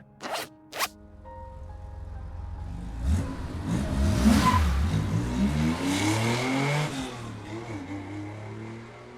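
A car in the game Love and Deepspace starts up and drives off, the engine rising in a long rev and accelerating after two short clicks, loud and close with no talk.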